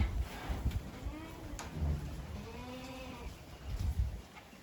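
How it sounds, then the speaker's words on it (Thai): Goats and sheep bleating while feeding on leucaena and grass on a farm, several wavering cries rising and falling at moderate distance over rustling and faint background noise. "แพะแกะกินกระถินไอ้กินหญ้า"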